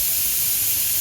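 A pressure cooker whistle blasts loudly as steam vents in a steady, unbroken hiss that lasts the whole short moment, heard up close with nothing else over it.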